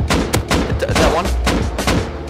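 Revolver gunshots in the survival video game Rust, a loud rapid series of sharp cracks firing in irregular rhythm close up, with excited voices talking throughout.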